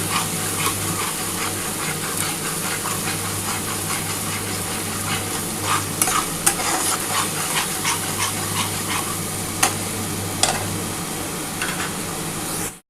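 Ginger, garlic, green chilli and tomato paste sizzles with frying onions in oil in a home kitchen, a steady broadband crackle with occasional sharp pops and spoon stirring, close and continuous with no talk.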